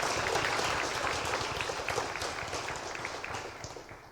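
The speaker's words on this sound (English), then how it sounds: "give her a clap" Steady audience applause fills a senior awards ceremony in Sandy Valley, a dense, even wash of many hands clapping that fades slightly toward the end, with no talk over it.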